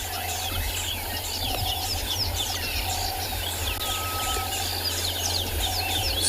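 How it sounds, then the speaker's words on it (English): Many birds alarm calling at sunrise on a Kalahari safari reserve, including a rattling cisticola and red-backed shrike, with repeated scolding chatters and rattles over a steady backdrop of insects and a low engine hum. "You'll hear that there's a whole bunch of alarm calls that are taking place from birds."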